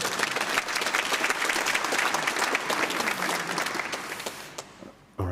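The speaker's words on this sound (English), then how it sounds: "give yourselves a round of applause" A conference audience at PromCon EU 2024 claps together in a dense, even burst of applause that thins out toward the end, with a voice briefly audible underneath.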